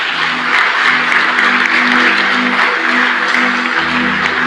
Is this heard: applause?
yes